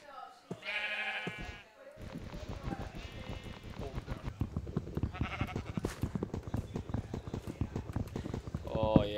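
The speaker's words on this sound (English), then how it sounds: "It's a white horse" Hooves clip-clop in quick, steady rhythm from a white horse in the Minecraft video game, close and fairly loud, with brief bleating animal calls at the start and end.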